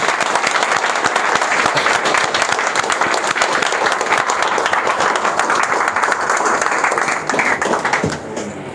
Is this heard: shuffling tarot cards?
no